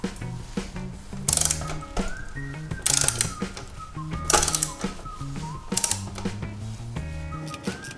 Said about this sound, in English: it's a T55 to get the lower mounting shock bolt undone